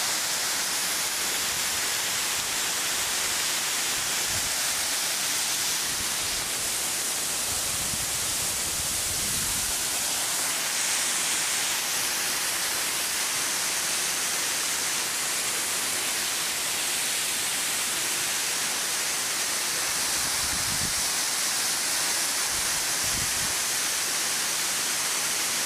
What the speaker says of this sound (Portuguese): Olha só, galera, que bonita bica aqui